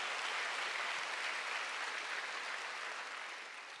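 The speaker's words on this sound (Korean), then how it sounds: "믿는 사람만 박수하세요" A church congregation applauds steadily during a Sunday service, a dense wash of clapping that holds for several seconds and then starts to fade toward the end.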